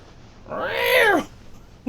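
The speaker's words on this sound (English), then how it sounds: "Why'd you put a cat on here?" A cat called Big Floppa gives a single drawn-out meow, rising then falling, loud and close, with faint room noise around it.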